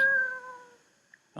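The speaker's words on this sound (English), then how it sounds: "there's your cat, and you can hear the sound" A recorded cat meow is triggered by clicking an on-screen button: a single clear, tonal meow that fades out, followed by a faint click and a short noise at the end.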